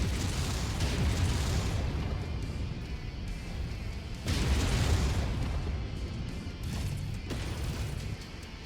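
A Ravager turret exploding in MechWarrior 5, a sustained rumbling blast with a second loud burst midway, heavy low booms continuing under crackling debris.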